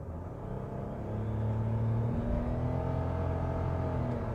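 New 1.0 litre Nissan Micra with its gearbox accelerates under full throttle, a low engine drone and rumble building in pitch, heard from inside the car.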